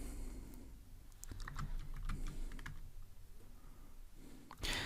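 Code is being typed on a computer keyboard in steady bursts of close, crisp key clicks, with brief pauses between runs and a louder clatter near the end.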